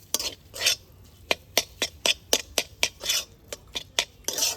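Cauliflower being mixed with ground spices and a little garam masala in a pan, giving a steady run of sharp spoon-on-metal scrapes and clinks, roughly two per second, close and clear with no talk.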